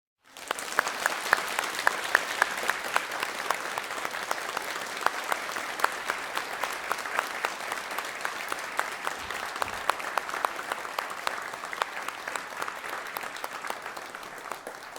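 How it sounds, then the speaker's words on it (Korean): A church congregation applauds warmly in celebration and encouragement, dense and sustained clapping from a large crowd that starts abruptly and holds steady for about fifteen seconds without talk. "여러분 뜨겁게 축하해 주시고 격려해 주시는 박수로 우리가 축복하겠습니다"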